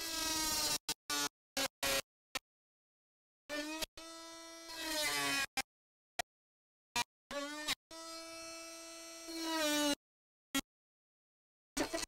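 A Milwaukee M12 Fuel oscillating multi tool revved in bursts: short on-off triggers, then sustained high buzzing whines that rise in pitch, close and alone against silence between runs.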